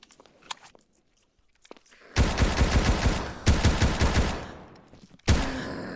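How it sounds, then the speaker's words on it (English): Shotgun blasts in a video game: three loud, heavy booms at about two-second intervals, each followed by a rattling, crackling tail, after a quiet stretch of faint small noises. "I really shouldn't be just wasting shotgun ammo like this."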